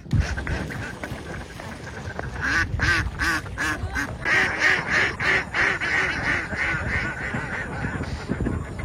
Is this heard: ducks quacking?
yes